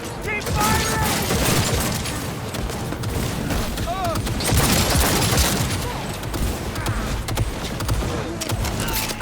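Rapid gunfire crackles through a loud Cyberpunk 2077 firefight, with mechanical clatter and bursts of shots layered over a constant din, while voices speak in the mix.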